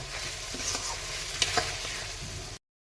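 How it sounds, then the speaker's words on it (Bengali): Peeled broad beans sautéed with spices in a pan, a brief close sizzle with quick spatula scrapes and a couple of sharp clicks before it cuts off. "মশলাটা ভালো করে কষানোর পর দিয়ে দিচ্ছি ছুলে রাখা ফরাস বিচিগুলো। এবার মশলার সাথে কষিয়ে নেব।"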